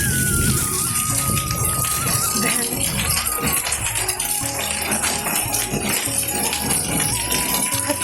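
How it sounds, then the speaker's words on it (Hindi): Heavy rain mixed with large hailstones pelts the ground and surfaces in a mountain village, a dense, continuous clatter of tapping and rattling impacts, with people talking over it. "खतरनाक बारिश आ रही है दोस्तों।"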